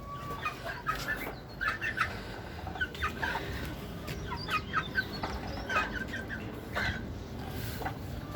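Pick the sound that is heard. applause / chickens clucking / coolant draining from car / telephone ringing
chickens clucking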